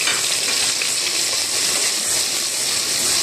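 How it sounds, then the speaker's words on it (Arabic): Onions frying in a spoonful of ghee in a cooking pot give off a steady, close sizzle with a constant bright hiss that holds at an even level throughout, with no voices over it. "معايا حلة هحط فيها معلقة سمنة أو أي مادة دهنية، بنزل بالبصل"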